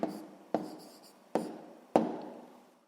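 Pen or chalk writing a maths answer by hand, four sharp taps each trailing into a short scratchy stroke, spaced about half a second apart, close and with no voice.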